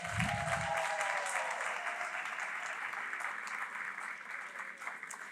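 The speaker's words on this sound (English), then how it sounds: "Let's give them a round of applause." Audience applauding students at a school arts night, a steady, even wash of clapping that continues without a break, with a brief low sound at the start.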